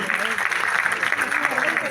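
Audience applause at a school award ceremony, the 6th Annual Prerna Mahotsav 2023 at Guru Nanak: dense, steady clapping from a crowd that holds at an even level throughout.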